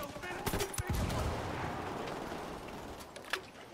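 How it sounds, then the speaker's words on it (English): Rapid gunfire in the video game Ghost Recon Wildlands, several sharp shots spread across a dense battle backdrop, with a louder crack near the end. "I'm opening fire."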